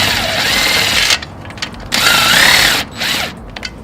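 Impact wrench on the engine bolts of a Suzuki RM250 motor that is locked up, in loud close bursts of roughly one second with short gaps between them and no talk.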